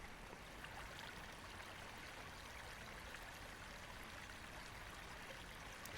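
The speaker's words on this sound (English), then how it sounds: "Streams just of completely pure water flowing from the heart of the mountains and flowing down through the desert." A pure mountain stream runs down through the desert, giving a steady, soft rushing and trickling of flowing water that stays even throughout.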